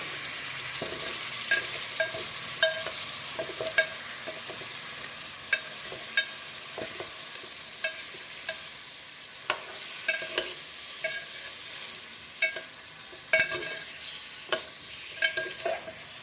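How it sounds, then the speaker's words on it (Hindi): Beef and ground spices fry in a pot for nihari while being stirred. A constant sizzle runs underneath, and spoon knocks and scrapes land in a fairly regular rhythm every second or so, close and without talk. "इसको हम तब तक फ्राई करेंगे जब तक इसका कलर चेंज नहीं हो जाता।"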